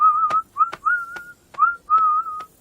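A cartoon character whistles a jaunty little tune, a series of short bright whistled notes in uneven phrases with brief gaps, close and clear against a silent background.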